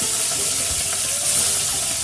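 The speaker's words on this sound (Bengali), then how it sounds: "তেলে আমি একটু নুন দিচ্ছি কেননা মাছটা ছিটকায় এই জন্যে আমি মাছে একটু নুন দিলাম করাতে মাছটা দিয়ে দিচ্ছি" Tilapia fish sizzling steadily as it fries in salted hot oil in a pan, a continuous close crackle with no talk.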